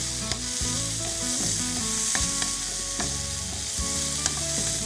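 Lightly boiled carrot pieces and thinly sliced, half-cooked beetroot fry in a pan, sizzling steadily up close with scraping stirring strokes throughout and no talking.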